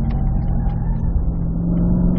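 A Cadillac CT5-V Blackwing with a six-speed manual accelerating out of a corner on the Spring Mountain race track in Pahrump, its engine a loud, close, sustained rumble building steadily.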